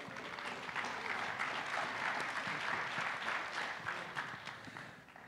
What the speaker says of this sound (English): Let's give a big round of applause to our wonderful MC